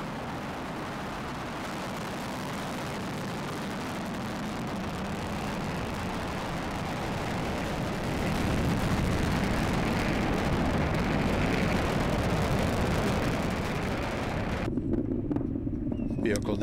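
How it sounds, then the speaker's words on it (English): A SpaceX Falcon 9 rocket lifts off from historic Pad 39A at Kennedy Space Center, its dense, rumbling roar swelling and sustaining for many seconds under a commentator's voice, then cutting off abruptly near the end. "liftoff of the Falcon 9 to the space station on the first commercial launch from Kennedy Space Center's historic Pad 39A"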